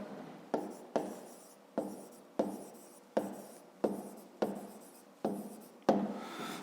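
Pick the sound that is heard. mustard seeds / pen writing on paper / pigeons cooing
pen writing on paper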